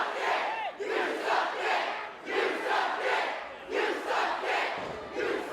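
Rowdy wrestling crowd at an indie show roaring and chanting in rising waves as fans hurl junk into the ring, a loud, continuous mass of voices with repeated surges.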